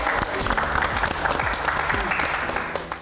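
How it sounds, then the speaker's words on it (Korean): Loud, dense studio audience applause during a Korean talk show about shamans, a continuous wash of clapping with a few sharper individual claps, filling the whole stretch. "이 시점에서 여러분 박수 한번 부탁드립니다."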